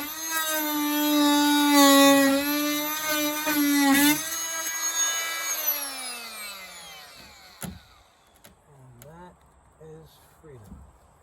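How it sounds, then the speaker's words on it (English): An oscillating multi-tool cuts T1-11 wood siding during a shed repair, giving a loud, steady, buzzing high whine for about six seconds, briefly interrupted near four seconds, then spinning down in pitch, followed by a few faint clicks and handling noises. "now I need the multi-tool to get that last piece because I don't want to splinter it"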